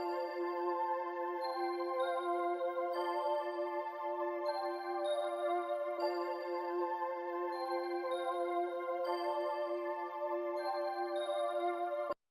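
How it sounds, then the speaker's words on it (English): Sustained synth pads from a soca beat hold steady layered chords that shift every few seconds, a smooth, even, flowing bed played alone with no drums and no talk. "And this is how the pads sound."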